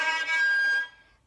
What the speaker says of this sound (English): If it's just on top of the fingerboard, we'll get that squeaky sound.